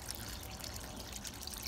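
Water trickles and splashes down a small waterfall in a garden koi pond, a faint, continuous burbling with light scattered drips and no talking.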